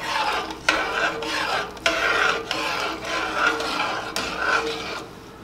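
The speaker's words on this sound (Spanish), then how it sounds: "Voy a revolver muy bien" Pasta being stirred in a pot with a spoon, a continuous scraping, rubbing swish with rhythmic strokes and a few sharper knocks against the pot, close and fairly loud.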